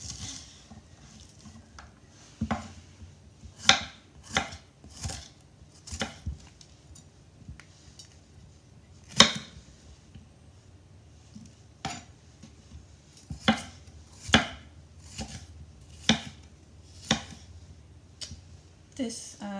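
A knife cuts food in half on a cutting board for a frittata, about a dozen distinct sharp chops at an uneven pace, close and clear over a quiet kitchen background.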